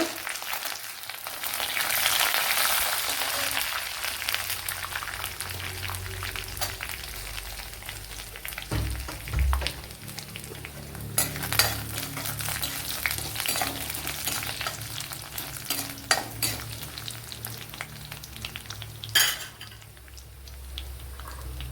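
Cashew nuts crackle in hot oil for a vendakka thoran while a spoon stirs and scrapes the pan, a continuous sizzle with occasional metal clinks and bursts of stirring.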